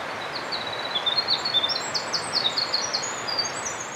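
Birds sing outdoors, captured with a shotgun microphone: a steady run of high, thin chirps and short trills against a soft, even background hiss, with no voices.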